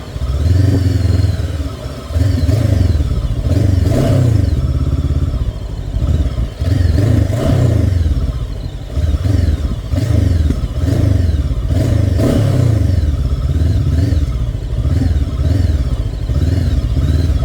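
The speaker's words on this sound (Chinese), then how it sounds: "然后我们现在听一下这个排气的声音哈" A Gaokin Storr 500 motorcycle engine revs repeatedly, its exhaust rising and falling in waves, loud and close, with rattling mechanical clatter and no talking.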